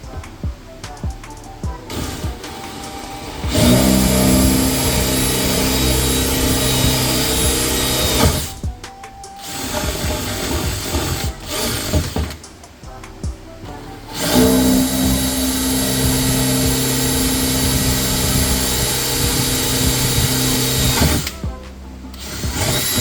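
A power drill bores through a boat's fiberglass and Divinycell foam core while fitting hatch lifters, running in long loud whining bursts separated by short pauses.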